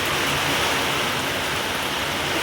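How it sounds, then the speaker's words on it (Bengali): Heavy rain lashes down in gusty wind, a dense, loud, unbroken roar of water close by. "কি পরিমাণ বৃষ্টি বাতাস শুরু হয়েছে।"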